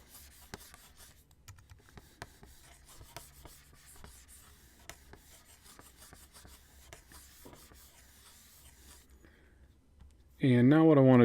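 Soft erasing of a pencil drawing of a face, a steady dry rubbing and scratching against paper that runs close and quiet for several seconds, ending in a sudden loud burst of other noise.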